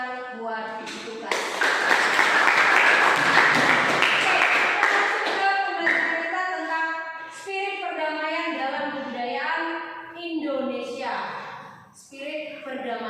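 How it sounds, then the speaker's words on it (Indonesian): Classroom applause for a student, broadband clapping rising after a second and filling several seconds before fading into a teacher talking over the room. "Tepuk tangan buat Lukas."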